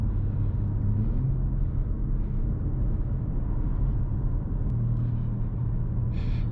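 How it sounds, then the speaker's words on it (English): Constant low cabin rumble from a 2023 BMW M3 Competition with a twin-turbocharged inline six, driving along a road at moderate speed, steady and unbroken with no talking. "I do love this engine though."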